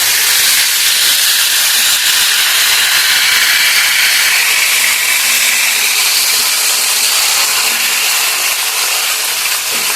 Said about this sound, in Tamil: நல்லா எண்ணெய் காய வச்சு இதை அப்படியே ஃப்ரை பண்ணி எடுக்க போகிறோம்